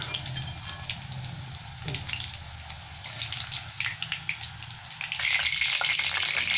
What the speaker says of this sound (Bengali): এখানে আমার ফুলকপি ভাজা হয়ে যাচ্ছে।